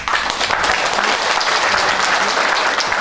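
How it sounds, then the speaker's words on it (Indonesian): Sustained applause from an audience of religious congregants, steady and fairly loud throughout with no talking over it. "tepuk tangan yang mulia"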